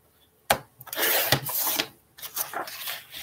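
A wooden board is trimmed to size for a small box, with abrupt rasping cutting strokes that start after a quiet moment, pause briefly, then resume in close, loud, uneven bursts.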